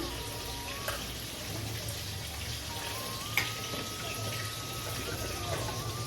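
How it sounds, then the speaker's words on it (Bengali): Three fish fry in a pan over high heat until crisp, making a steady close sizzle with faint crackles and a brief clink, plus a thin tonal whine in the background. "হ্যাঁ, বেশ কড়া করে মাছটা ভাজা হবে।"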